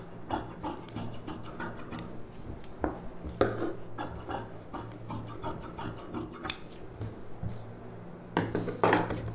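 Scissors cut through fabric pieces for a blouse, producing repeated crisp snips and rasping slides at an uneven pace, close and moderately quiet over a low steady hum.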